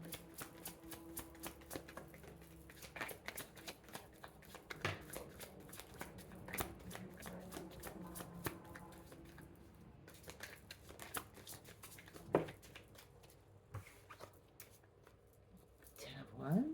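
Tarot cards being shuffled by hand in a steady run of quick, crisp riffles and soft flicks, quiet and close.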